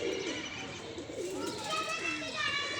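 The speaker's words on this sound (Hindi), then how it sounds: "ये बैठा हुआ कबूतर किसी का" Pigeons cooing at a rooftop loft, soft repeated rolling coos in the background with continuous ambient chatter and outdoor noise, a person talking nearby.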